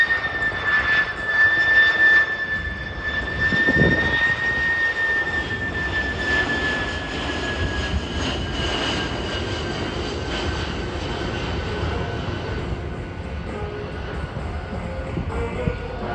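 A Kawasaki C-2 military transport jet flying low and slow with flaps down and high thrust at the Australian International Airshow 2023, a loud sustained engine roar with a steady whine over it.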